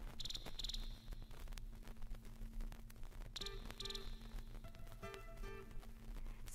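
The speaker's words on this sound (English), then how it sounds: "She asked the crickets to sing their evening song." Crickets chirp in bursts of high trills over a steady low hum of other night insects, a dense, continuous chorus, from a vinyl record.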